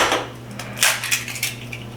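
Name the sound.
cracking two eggs into a bowl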